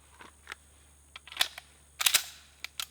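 A Sig Sauer P226 Legion pistol fired in double action at a shooting range, heard as a string of sharp, fairly quiet cracks at irregular intervals over a faint steady hum.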